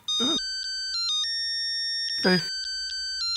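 A mobile phone ringtone for an incoming call, a repeating electronic melody of bright sustained tones with short pauses; two short bursts of voice cut in over the ringing.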